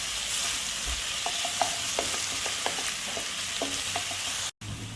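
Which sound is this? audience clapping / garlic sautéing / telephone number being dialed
garlic sautéing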